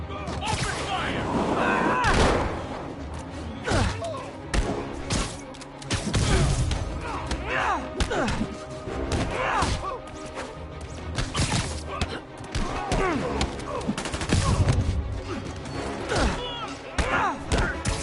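Enemy gunfire rattles in bursts through a Spider-Man game fight, with thuds, crashes and impacts mixed in and voices talking over the chaotic, steady combat noise.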